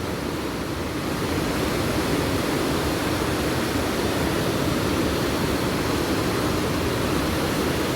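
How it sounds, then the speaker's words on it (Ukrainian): Continuous rushing water spreading between rocks at the Rhine Falls, a dense steady wash like a fast stream running over rocks, loud and close with no voices. "вода так розтікається"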